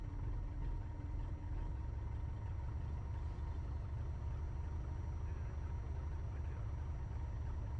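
A light aircraft engine idling on the ground before a flight from Blackpool, a steady low droning rumble with a faint harmonic whine, continuous and close for the whole stretch.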